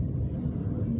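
Steady low rumble of road traffic at night, vehicles passing continuously on a busy street around 8:45 pm, dense and fairly loud with no clear gaps between passes.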